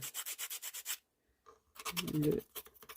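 A hand file rasps against the plastic of a battery-powered children's ride toy, in rhythmic rubbing strokes up close, with a short pause and then a harsher, heavier burst of filing.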